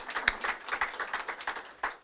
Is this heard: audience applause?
yes